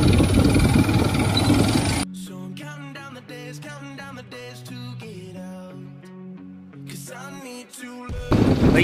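A motorcycle engine hums steadily at a low idle-like rhythm on a hot daytime road ride in Bihar between Patna and Jehanabad, loud and close, bracketed by bursts of wind and traffic roar at the start and end.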